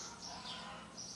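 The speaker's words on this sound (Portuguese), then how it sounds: "Olha os passarinhos cantando." Birds sing near a poolside barbecue area in Minas Gerais, their faint chirps blending into a steady outdoor hiss, with no voices over them.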